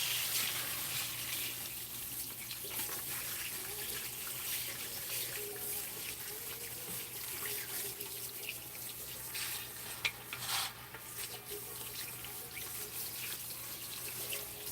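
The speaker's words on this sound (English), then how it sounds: "we're gonna get this out of the sink and rinse my brush" A sink tap runs steadily while a shampoo brush is rinsed under it, a soft continuous stream of splashing water with faint clatters, heard from a short distance.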